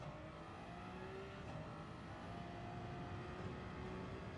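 A McLaren's engine drones steadily in Gran Turismo 7 during a race, a continuous high-revving tone with faint tire noise, quiet and even throughout with no talking.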